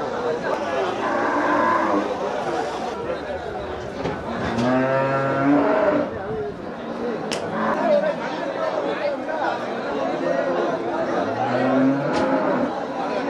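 Cattle low and moo repeatedly amid the bustle of a Melapalayam cow market, with livestock sounds and crowd chatter filling the space continuously as traders talk nearby.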